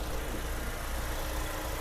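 A four-cylinder engine in a used car idles with a low, steady, quiet hum, even and unchanging, heard close up with no voices.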